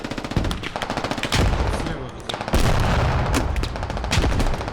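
Heavy gunfire in the Squad video game, playing the grenadier role: loud, dense bursts of rapid shots and booming impacts run nearly without a break, close and harsh throughout.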